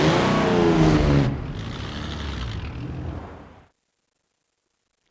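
A 1952 Hudson Hornet in Forza Horizon 4 revs loudly up close, its engine climbing then easing into a fading run before cutting to silence.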